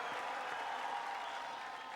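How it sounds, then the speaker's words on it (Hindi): Studio audience at a televised singing competition applauding steadily, a dense continuous wash of clapping heard alone at moderate level. "जोरदार तालियां हो जाए"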